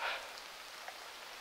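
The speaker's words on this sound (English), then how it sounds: "Of course, it's raining now." Rain falling outdoors at a camping spot, a steady soft hiss of drops on surfaces, faint and even for the whole moment.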